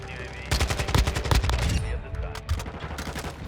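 Kastov 74u gunfire in Call of Duty Modern Warfare 2, rapid loud automatic bursts of sharp cracks in quick rhythm, then trailing off into scattered shots and game noise.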